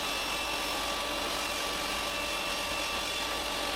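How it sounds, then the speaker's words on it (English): A small table saw running as it cuts an MDF board, a loud continuous broadband whine and rasp held at steady level for a few seconds with no pauses. "I cut the MDF so that I get a piece that is 80 centimeters long."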